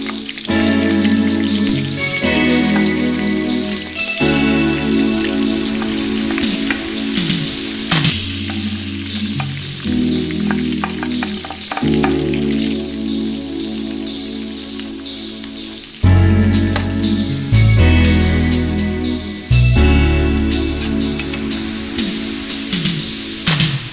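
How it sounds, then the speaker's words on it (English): Vegetables fry in bacon grease in a skillet, a loud continuous crackling sizzle running throughout, with occasional stirring and shifts in intensity. "you're going to reserve the bacon grease so you can fry your vegetables"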